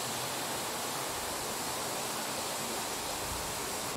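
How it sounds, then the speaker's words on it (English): A steady, gentle rush of flowing water, like a babbling brook, continuous and soft throughout with no distinct bird calls standing out. "the soft, soothing sounds of a babbling brook winding through a peaceful forest with birds chirping"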